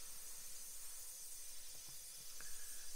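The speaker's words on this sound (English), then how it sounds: "I think we've got the paint mix just right for this airbrush. We have beautiful flow" A GAAHLERI airbrush sprays paint in a steady soft hiss, close and unbroken for a few seconds, with a couple of faint clicks near the end and no voices.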